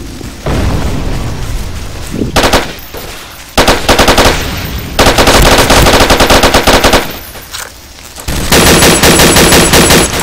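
Rapid automatic gunfire and explosions from a battle in the Empires game, with loud sustained bursts interrupted by short pauses and heavy booms, close and dense throughout.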